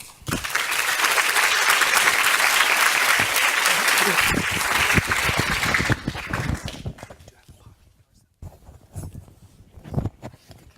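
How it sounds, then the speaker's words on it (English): An audience at a lecture applauds Dr. Raquel Gur, loud, sustained clapping for about six seconds that then fades into scattered claps and room noise, with a voice briefly heard near the end. "So let's give a round of applause for Dr. Gore."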